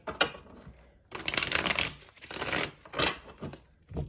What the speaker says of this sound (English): we will do one last shuffle